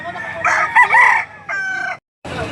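At a livestock auction market in Lipa City, Batangas, a rooster crows loudly and close by, a long strained call with a brief second crow, followed by a short pause and more noise.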